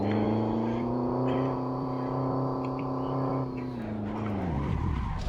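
A Peugeot 301 in a video game drifts along mountain roads, its engine holding a steady loud drone with a handbrake slide and tire squeal; the pitch drops and wavers near the end.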